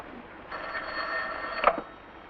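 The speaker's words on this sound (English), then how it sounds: "Answer that phone." An old-fashioned telephone bell rings once in a single steady burst, moderately loud and clear, with no talking over it.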